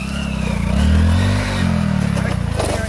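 A Hero Glamour motorcycle engine revs hard during a wheelie attempt, a loud, close, pulsing engine note that swells and dips as the throttle is worked, with voices faintly underneath.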